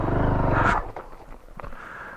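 A Honda CRF450L dual-sport motorcycle engine idles with a loud, rough, pulsing rumble on an off-road trail, then abruptly cuts out as it flames out, leaving scattered faint clicks and rustles.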